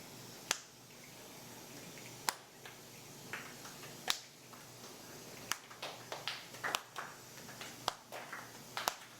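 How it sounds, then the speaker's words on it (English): A group of people snap their fingers, each keeping their own rhythm, producing sharp, isolated snaps scattered unevenly over a quiet room, with a few louder pops standing out from softer ones. "So we're going to snap."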